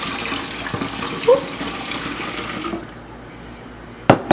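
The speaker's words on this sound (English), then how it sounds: "I'm gonna pour this in here" Strained ginger liquid is poured from a container into another vessel while making ginger beer, giving a soft splashing trickle that fades out, followed by a couple of sharp knocks. A person briefly exclaims during the pour.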